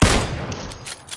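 Gunfire in the battle royale game PUBG: a loud burst of shots rings out up close with an immediate punchy crack, followed by decaying echo and a couple of fainter trailing reports.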